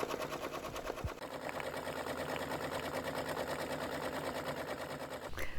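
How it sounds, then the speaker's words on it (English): A Brother PR680W multi-needle embroidery machine stitches a design onto a structured cap with a sharp needle, giving a steady, fast, loud mechanical rattle that runs continuously and alone, with a brief thump near the start. "you can see that it is stitching out very nicely on this structured cap, still using a sharp needle."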